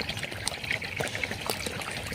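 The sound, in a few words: irrigation water trickling into coconut tree basins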